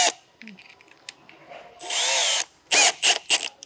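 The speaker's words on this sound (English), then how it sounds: "Drilling the hole for the drainage and the switch, it's easier to start with the pilot hole first." A power drill fitted with a step bit bores a hole while a tonneau cover is fitted to a Holden Colorado Z71. A brief whirring run is followed by a few short, loud bursts of drilling, with faint handling noises before.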